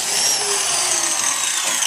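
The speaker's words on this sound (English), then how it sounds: "We'll just go with the biscuit jointer, both sides of this, and just cut that slot" A biscuit jointer cuts a slot into the wood of an end table, a loud high-pitched spinning whine that holds steady for a couple of seconds, close up, with no talking.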